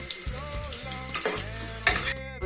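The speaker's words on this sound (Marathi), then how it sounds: "कांदा लालसर भाजून घ्यायचा." Chopped onion frying in hot oil as a tempering base for spicy misal, a crackling sizzle broken by repeated scraping stirs, close and fairly loud, with no voices.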